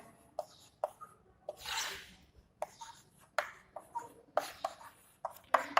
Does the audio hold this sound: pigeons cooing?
no